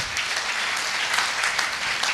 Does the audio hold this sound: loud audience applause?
yes